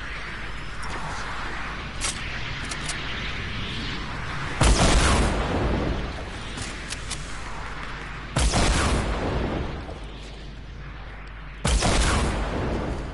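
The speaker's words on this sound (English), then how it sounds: "I just tried to rocket raid it" Three loud rocket explosions in Fortnite Solo burst at roughly four-second intervals, each a sharp heavy boom over steady game ambience and gunfire-like crackle.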